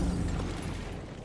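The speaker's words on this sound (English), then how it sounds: "Oh, I threw a grenade on myself." Grenade exploding in the Battlefield 1 video game, a heavy low boom that rumbles and slowly fades over about a second, loud and close.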